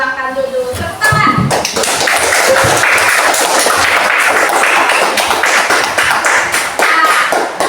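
After a brief voice, a room of primary school children bursts into loud, close clapping that continues steadily for several seconds.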